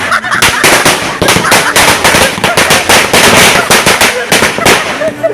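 Firecrackers set off by a family during a Perunal celebration crackle in a dense, loud string of sharp close bursts, with short gaps between volleys.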